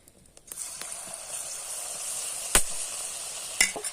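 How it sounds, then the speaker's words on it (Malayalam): Eggplant slices sizzle in hot oil for Kerala-style vazhuthananga bajji, a steady bright frying hiss with a few sharp crackles and pops close by, no voices. "അപ്പം ഇത് എണ്ണയ്ക്കിടന്ന് നന്നായിട്ടൊന്ന് മൂത്ത് വരട്ടെ"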